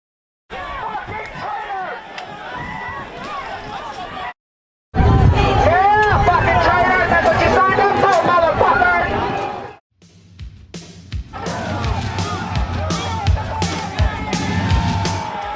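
A crowd at a rally stirs agitatedly, with overlapping shouts and chatter in bursts separated by brief pauses, fairly loud and close with individual voices calling out.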